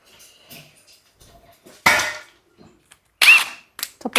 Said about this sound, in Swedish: Bara knacka väck den bulten, det går ganska snabbt.